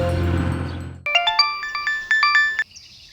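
A phone ringtone plays a bright, bell-like electronic melody of repeated chiming notes, loud and close, cutting in abruptly after a stretch of background sound.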